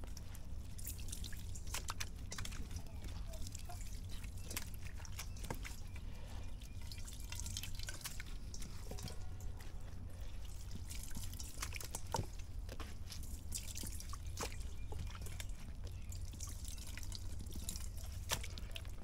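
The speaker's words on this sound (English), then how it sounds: "Okay, so you can see it's dripping, it's coated with fungicide." Copper fungicide drips steadily into a bowl from a freshly cut ladyfinger banana sucker, giving faint, irregular small drops over a constant low hum of background noise throughout.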